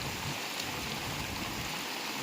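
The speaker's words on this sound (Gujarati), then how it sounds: "આ સિઝનમાં હે ને, પહેલી વખત આટલો વરસાદ પડ્યો" Heavy rain from the season's first big downpour pours in a dense, steady hiss with no talk.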